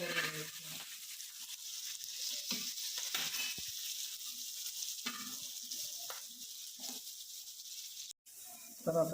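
Colocasia leaf vadis (alu vadi) frying in hot oil give a steady, fairly quiet sizzle with occasional stirring scrapes, continuous through the clip with a brief drop near the end; no talking is heard.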